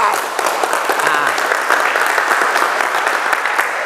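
Audience at a church gathering at an army battalion base in Garut bursts into loud, sustained applause and cheering in praise of God, dense clapping filling the whole moment with a few voices mixed in.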